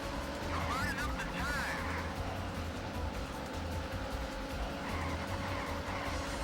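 Arcade racing car in Daytona USA drifts with tire squeals rising over a steady engine drone, game music underneath and a voice talking over it.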